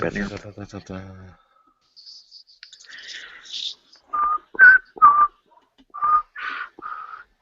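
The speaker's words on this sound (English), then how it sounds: "I can't whistle, so I'm gonna stop." Someone whistles a handful of short, wavering notes in a halting, unsteady tune, preceded by a brief burst of talk and a pause.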